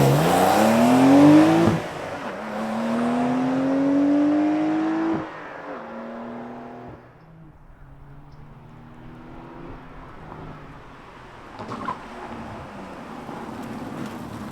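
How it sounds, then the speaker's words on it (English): A 2023 Porsche 911 Carrera T (992) with sport exhaust fires up with a loud bark, then revs in rising sweeps that drop back to a settling idle, heard close and alone. "We got the sport exhaust on a Carrera T. Let's fire it up and hear what kind of sound it makes."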